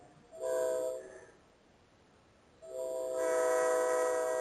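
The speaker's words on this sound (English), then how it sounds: "There's the train coming." Train horn sounding across an open field, two long tonal blasts, a shorter one and then a longer sustained one, moderately loud at some distance with no talk.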